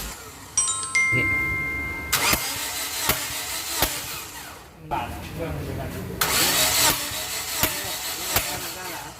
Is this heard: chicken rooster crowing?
no